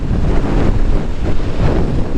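Strong, steady wind buffets the microphone on an exposed mountain top in Ladakh beside a row of windmills, a loud, continuous roar with no pauses.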